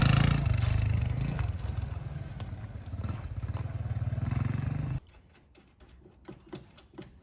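A Skoda Octavia engine revs loudly for about five seconds with a steady buzzing drone, then cuts off, leaving faint clicks and workshop clatter.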